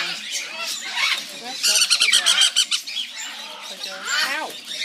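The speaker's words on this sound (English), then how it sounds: "What other annoying bird wants to get fed?" Baby conure parrots squawk and squeal at feeding time, a close, busy chorus of harsh rising cries with a denser burst in the middle; a person talks at times among the birds.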